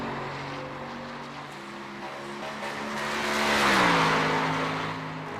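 Race car engine at Watkins Glen during qualifying, a steady harmonic drone that dips in pitch and swells louder midway as the car spins out, with faint hints of tire scrub, no talk.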